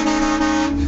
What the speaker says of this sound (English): Mine came with a train horn.